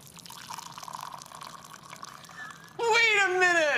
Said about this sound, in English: So I'm blindfolded to see if cold water sounds different from hot water.